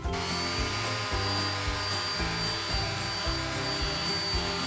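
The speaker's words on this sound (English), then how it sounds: "I'm going to be using my Dewalt orbital hand sander, and I will be using a 220 grit sandpaper" A DeWalt orbital hand sander with 220-grit sandpaper runs on painted wooden chairs, a steady loud buzzing whir with a low pulsing drone, continuous for the whole stretch with no talking.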